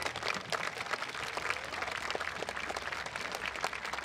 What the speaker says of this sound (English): can you give him a round of applause again?